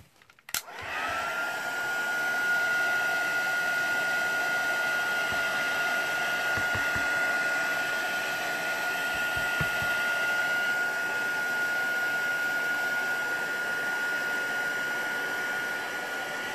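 A hair dryer blows on mixed media paint on a craft layout, starting with a click and then running as a loud, steady whir for about sixteen seconds, close and alone.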